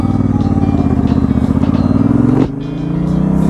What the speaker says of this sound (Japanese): ご覧のように彼が乗ってるのはドカティモンスター796ですね